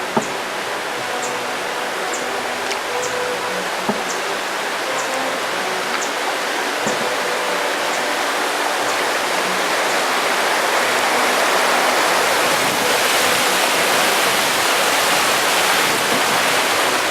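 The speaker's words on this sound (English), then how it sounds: "I noticed a drop-off in the water level and realized we were approaching some rapids." River rapids rushing loudly and steadily, a dense close roar of churning water filling the whole stretch without talk.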